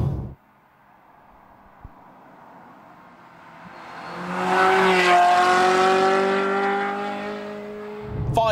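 Ferrari 355 engine building from a low idle into a rising, high-pitched multi-cylinder wail that peaks loudly midway, then holds and eases off slightly before the end.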